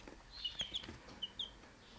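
Newly hatched black chick peeping from an incubator: about five short, high, thin peeps spaced irregularly, faint and close against quiet background hiss.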